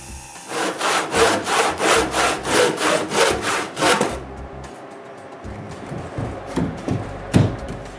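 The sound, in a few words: hand saw finishing a cut in wood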